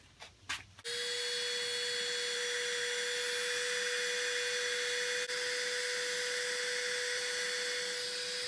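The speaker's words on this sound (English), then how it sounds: "I think we're going to go back to heat gunning this thing." A heat gun warms an HDPE slingshot with a steady, high, humming blow that runs evenly and close by after a few brief clicks at the start.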